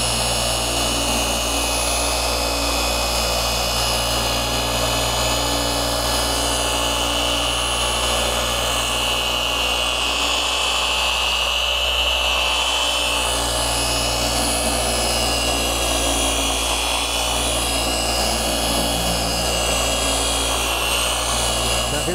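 A machine polisher buffs the paint of a $2 million Ferrari, giving a loud, steady whirring drone that runs unbroken for the whole stretch.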